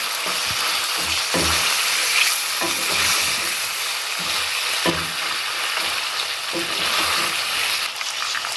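Beef korma fries in a pot with a loud, dense sizzle that carries on steadily, broken by a few stirring scrapes and thumps, up close and with no voices.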